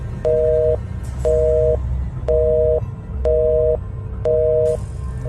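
A telephone call is cut off, leaving a loud disconnect tone: five evenly spaced beeps, each about half a second, repeating at a steady rhythm with no talk.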